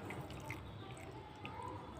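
Water, about half a glass, goes into ground peanuts for chutney, giving quiet trickling and drips with a few small splashes, faint and close, with no talking.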